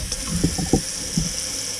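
Water runs from a faucet at a newly installed Glacier Bay pedestal sink with a chrome P-trap, a steady splashing flow with a few louder thumps and clunks mixed in, close by and with no one speaking.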